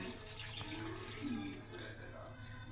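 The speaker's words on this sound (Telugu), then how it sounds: "నేను కొంచెం మిక్సీ కడిగి వేస్తున్నాను" Running water splashes steadily as a mixer jar is rinsed and poured out, with faint clatter in the background.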